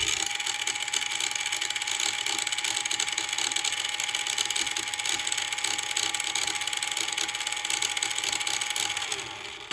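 A Jada Toys Lightning McQueen 1:24 scale toy car with an upgraded motor runs on turbo, making a steady, high-pitched electric whine with a buzzy rattle, close and loud throughout, easing slightly at the end.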